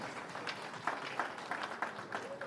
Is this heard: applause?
yes